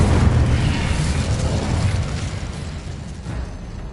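An Incendio fire spell goes off in Hogwarts Legacy, a loud, close whooshing roar of flame that bursts in at full strength and slowly thins out as it dies away.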